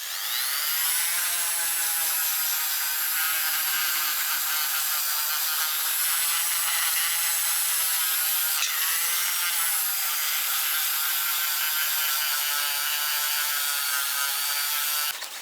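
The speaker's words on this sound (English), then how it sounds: "Polish, buffing up with the electric Dremel" An electric Dremel buffs and polishes metal with a continuous high, even whine that holds at a steady level throughout, close and uninterrupted.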